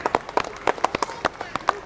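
At a school brass band concert, the audience claps and stamps their feet in a short, uneven run of sharp, fairly close claps and thumps. A voice speaks over them.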